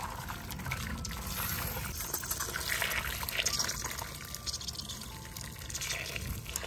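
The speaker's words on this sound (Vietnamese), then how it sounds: "bắt đầu giờ mình sẽ trụng nước sôi" Elephant trunk clams are blanched in freshly boiled water, producing a continuous quiet pouring and trickling of water with faint splashes, heard on its own without talk.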